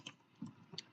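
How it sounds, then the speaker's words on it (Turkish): A computer keyboard gives a few quiet, separate clicks within a second, close by and alone, with no talking. "klavye sesi geliyorsa da kusura bakmayın"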